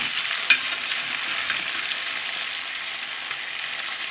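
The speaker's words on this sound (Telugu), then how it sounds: "ఇప్పుడు కదా ముక్కలు ఫ్రై అవుతున్నాయి, ఇలా ఫ్రై చేసుకోవాలండి" Fish pieces frying in oil for a pala bontha fish curry, an even, close crackling sizzle running steadily throughout with a small tap near the start.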